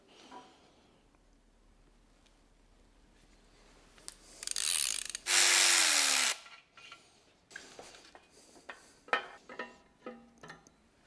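A ratchet and power tool work through engine bolts and screws in sequence, with scattered clicks, a loud sustained burst of power-driver whirring in the middle, then a run of separate ratchet clicks, close and without talking.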